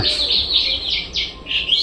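Small finches chirp repeatedly at close range, a run of quick bright tweets and short calls with no talking.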